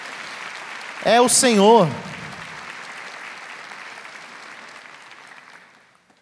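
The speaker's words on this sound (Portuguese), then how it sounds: "Aplaude o Senhor" A church congregation applauds, a broad wash of clapping that gradually fades away, with a preacher's voice calling out briefly over it near the start.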